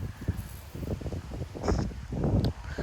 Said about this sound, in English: I can literally hear the wind through those live oaks.